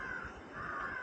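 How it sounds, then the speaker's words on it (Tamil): Crow cawing close by beside a dog eating biscuits, harsh repeated caws filling the full second with no talk. "காக்காக்கெல்லாம் பயப்படுறியா நீ?"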